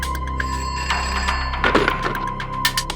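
A telephone rings at a Borivali police station, its bell-like trill repeating in short bursts over about three seconds amid a few thumps and clicks, with no talking.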